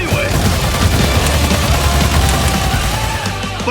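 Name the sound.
gunfire from the video game Battleborn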